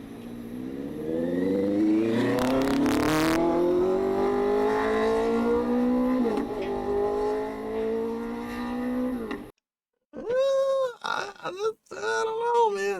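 A vehicle engine revs steadily upward in pitch as it pulls away at Starbase, loud and continuous for several seconds, after which people talk.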